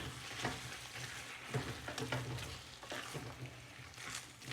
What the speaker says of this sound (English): we'll add the potatoes. Give it a stir.